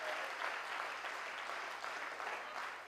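A hall audience at a patriotic poetry evening in Dewas claps steadily, a dense and sustained wash of applause with no clear gaps.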